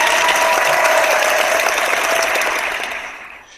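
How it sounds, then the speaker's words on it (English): An audience at a sales seminar claps for a presenter named Tom, a dense wash of applause that holds steady for a few seconds and then tapers off toward the end. "let's give Tom a little applause."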